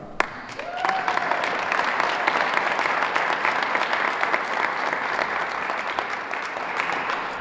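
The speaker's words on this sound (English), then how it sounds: "I don't expect such a big applause" Big applause from an audience at a 2021 MassWorks grant awards ceremony, dense steady clapping that starts abruptly and carries on loud and sustained for the whole stretch.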